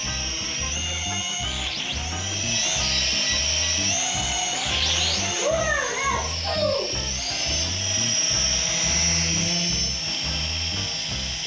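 An S56G camera drone whines with a high, steady multi-tone rotor buzz that bends and sweeps in pitch as it manoeuvres, overlaid on a rhythmic low thumping pattern, heard close and fairly loud.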